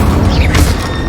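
A burst of the Incendio fire spell in Hogwarts Legacy lands as a single loud, whooshing flare over a rumbling mechanical bed of battle noise, brief and close.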